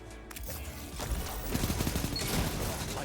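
Rapid SMG fire from a first-person shooter game, with dense bursts of shots and clattering impacts running through the whole stretch, fairly loud and continuous with faint game ambience beneath.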